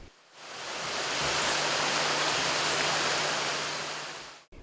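A spectacular waterfall screening a cave entrance roars as a dense, steady broadband rush that swells in after a moment, holds evenly, then cuts off abruptly; no voices.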